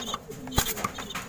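Racing pigeons coo in quick, close soft bursts, several overlapping calls with light rustling and no talk.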